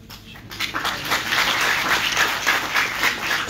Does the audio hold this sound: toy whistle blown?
no